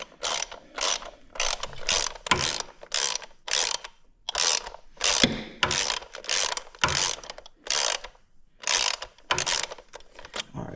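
A 12mm ratchet works loose the rear shock bolt on a 2016 KTM 1290 motorcycle, giving repeated close bursts of crisp pawl clicking in an uneven stroke-by-stroke rhythm with short pauses between, and no voices.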